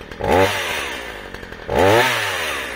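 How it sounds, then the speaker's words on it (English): A two-stroke chainsaw engine, warmed up after a won't-start repair, revs hard twice with quick throttle ramps, each burst rising sharply then settling to a steady idle, loud and close with no talking. "Fast ramp up on the throttle."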